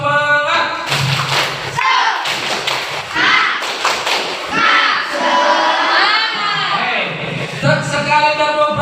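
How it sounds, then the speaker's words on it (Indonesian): A school class does the tepuk semangat rhythmic clapping cheer, sharp patterned claps mixed with chanted voices of children and a teacher, loud and close. "Kita lakukan yel-yel tepuk semangat ya."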